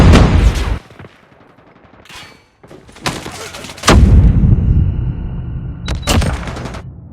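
Call of Duty Mobile match with a frag grenade blast and gunfire, loud booming bursts and sharp shots in quick succession with heavy low rumble and brief lulls between.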